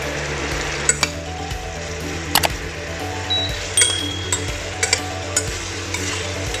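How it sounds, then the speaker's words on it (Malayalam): Onions and shallots sauté in hot oil in a pan for Kozhikode-style beef biryani, a steady close sizzle with occasional sharp clinks and scrapes of a stirring spoon, no talking. "അതിൻ്റെ കൂടെ നമുക്ക് ചെറിയ ഉള്ളിയും കൂടെ കുറച്ചിട്ട് ചെറുതായിട്ട് നമുക്കൊന്ന് വാട്ടും"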